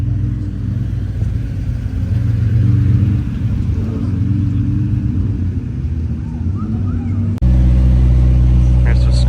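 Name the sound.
Pagani Zonda C12 Roadster supercar engine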